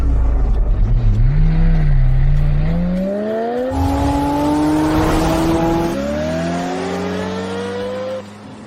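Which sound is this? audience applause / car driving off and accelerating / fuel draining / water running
car driving off and accelerating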